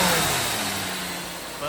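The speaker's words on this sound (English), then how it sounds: "Give it a little gas here." A Cadillac SLS Northstar V8 revs gently from idle, the engine note rising and easing back, close and steady with a voice talking over it.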